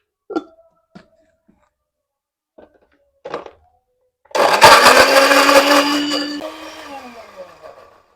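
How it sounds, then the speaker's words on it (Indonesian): A kitchen blender grinds a spice paste with ground pepper and turmeric: a few thunks and taps of loading, then the motor roars loudly and steadily for about two seconds before winding down. "Lanjut kita blender."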